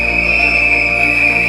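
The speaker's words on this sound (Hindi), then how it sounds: "पहले जोरदार तालियां और सीटी, सारी सीटियां सुनाई आनी चाहिए मुझे इस वक्त" Shrill, steady whistling from an audience at a stage event in Bharat Mandapam, holding one sustained high tone for a brief moment with no talk over it.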